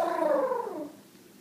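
At a kids' story time, children's voices imitate an elephant with a single falling, moaning call lasting about a second, fairly quiet and tapering off.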